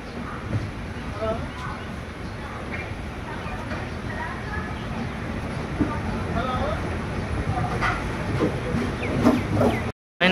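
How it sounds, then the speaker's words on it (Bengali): A train rolls into Visakhapatnam station, arriving about half an hour late. It makes a steady rumbling hiss with faint clicking wheels and brakes that grows louder toward the end before a sudden cutoff, and indistinct voices sit in the background. "ফাইনালি ট্রেন ঢুকছে বিশাখাপত্তনম"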